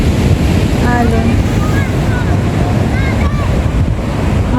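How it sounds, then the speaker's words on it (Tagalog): Loud, continuous roar of ocean surf at a beach by an abandoned resort, mixed with heavy wind buffeting the microphone, with faint chirping sounds scattered above. "Alon."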